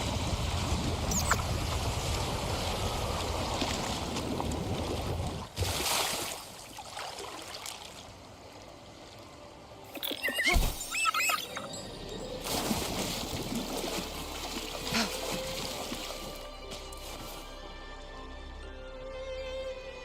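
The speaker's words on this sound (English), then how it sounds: "Another waterfall." A waterfall rushes in the video game Wuthering Waves, a steady broadband roar of falling water heard near and loud, with brief shifts and swells in intensity as the scene moves along.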